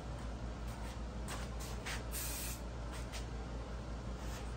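A spray can applies a chrome paint coat in short, close hissing bursts, several pulses of spray separated by brief pauses against a steady background hum, with no talking.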